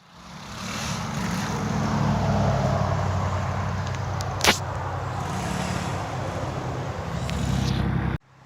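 A Tao 110 youth ATV ridden around a large one-acre yard, its small engine droning steadily at a moderate distance, with one sharp brief click partway through and an abrupt cutoff near the end.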